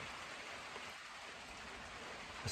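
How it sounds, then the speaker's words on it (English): Steady rain falls on outdoor surfaces, a dense even hiss of drops that stays constant and fairly close throughout, with no voices. "when the rain started coming, I just get them under cover"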